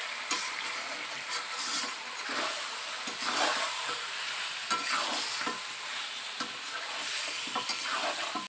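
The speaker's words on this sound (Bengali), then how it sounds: "মশলাগুলো চিকেনের সাথে একটু নেড়ে মাখিয়ে নেব।" Chicken tossed with spices and salt in a pan, a soft steady sizzle with repeated scraping and stirring strokes of a spoon, fairly quiet and close, no speech.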